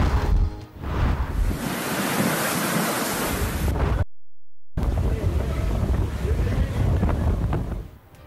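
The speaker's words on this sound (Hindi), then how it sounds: "तेज हवाओं और तूफानी बारिशों से निजाम जिंदगी मफलूज" Strong typhoon winds with storm rain on Japan's southwestern coast roar loudly and buffet the microphone in a surf-like rush, broken by a brief silent gap midway.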